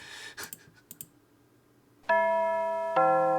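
A school chime rings in the visual novel game Amber Quartz, two loud sustained bell tones sounding after a few soft clicks and a short quiet stretch.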